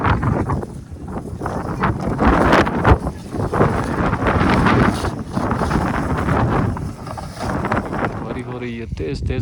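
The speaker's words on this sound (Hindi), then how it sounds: "ठंडी तेज़ हवा के साथ ये बर्फबारी है जी।" Strong, cold wind blows through a snowstorm in Dapa Village near Skardu at -15°C, buffeting loudly in uneven gusts that rise and fall close by.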